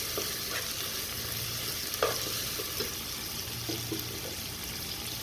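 Food fries in a pan for biryani with a steady, moderately loud sizzle, broken by occasional soft clinks and scrapes of stirring.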